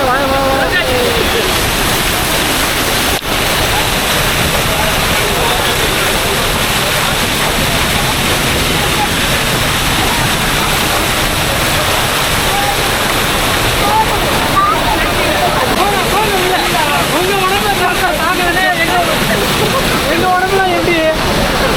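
Manimuthar waterfall in Tirunelveli, a loud, steady roar of falling water filling the whole scene, with voices faintly audible beneath the rushing noise.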